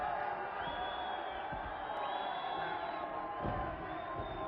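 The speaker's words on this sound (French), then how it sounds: "Vous entendez la foule" A wrestling crowd in an arena cheers and shouts continuously during a tag-team match, a steady dense roar with occasional whistles and louder swells, with a commentator's voice faintly present.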